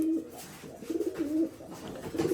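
Rajshahi Giribaj pigeons coo close by in a series of soft, rolling, repeated calls, with no one speaking.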